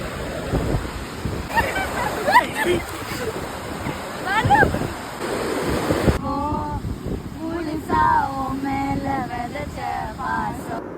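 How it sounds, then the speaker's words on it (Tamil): Surf washing onto a beach at night, a steady broad wash with wind noise on the microphone, while people talk and laugh close by throughout and someone sings over it in the second half. "நைட்டு ஜாலியா பீச் வந்திருக்கோம்"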